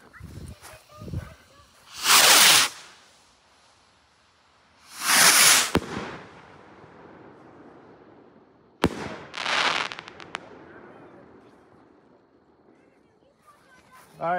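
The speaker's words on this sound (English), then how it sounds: "All right, here goes the shells." Nishiki firework shells burst in three separate loud, crackling explosions spaced a few seconds apart, heard from a distance with quieter background between them and some voices.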